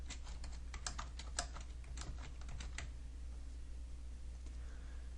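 Rapid typing on a computer keyboard while entering an axis title in plotting software: a close, busy run of clicking keystrokes for about three seconds, then trailing off to quiet room hum.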